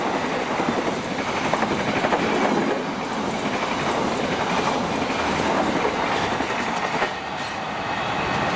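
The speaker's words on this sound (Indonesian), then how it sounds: "Barusan kereta api Fajar Utama YK 143B" Fajar Utama passenger train rolling past on the rails, a loud, continuous rumble with rhythmic wheel clatter that holds steady throughout, with no voices.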